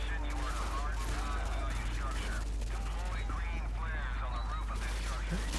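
Rapid gunfire from the video game Call of Duty: Modern Warfare 2, with repeated bursts throughout, mixed under excited, shouting voices of players.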